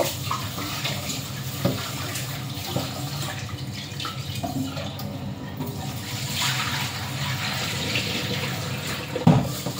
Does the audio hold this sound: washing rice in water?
yes